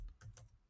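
A few quick, light keystrokes on a computer keyboard, close and quiet, as a short burst of two or three clicks with no talking.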